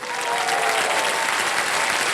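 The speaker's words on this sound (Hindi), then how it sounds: "ताली बज जाए" A studio audience at a television quiz show claps in a full, steady burst of applause, loud and continuous throughout.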